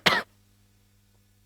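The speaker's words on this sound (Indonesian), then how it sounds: "Kakak lagi batuk sih." One short, harsh cough up close, followed by quiet with a low steady hum.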